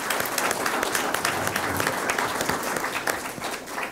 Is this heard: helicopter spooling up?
no